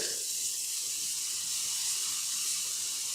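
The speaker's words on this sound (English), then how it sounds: "you're going to go ahead and put your garlic in there, just for a second" Garlic sizzles in an oiled pan, a steady soft hiss that holds throughout at low volume.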